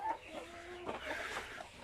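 Chickens cluck close by in short, throaty bursts at a village coop with eggs, with a brief higher call near the start and steady farmyard ambience behind.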